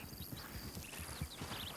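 Horse hooves clip-clop steadily at a walking pace in a western video game, a soft repeating rhythm with faint ambient sound layered over it.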